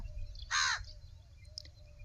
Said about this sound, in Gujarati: ડાળ ઉપર બેઠો બેઠો આ બોલેરો એવી રીત કા કા કરવા માંડ્યો